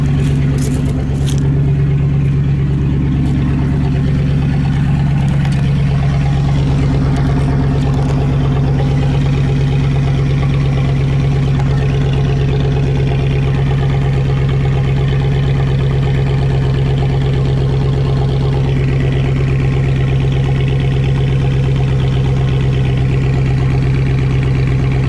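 A 2006 Ford F150 with a 4.6 V8 idles close up, its exhaust giving a loud, steady low rumble that holds unchanged throughout with no talking.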